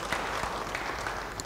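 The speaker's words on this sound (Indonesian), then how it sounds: "Beri tepuk tangan bagi dia." A church congregation claps together in a dense, steady burst of applause that lasts the whole brief moment, with no pauses or voices over it.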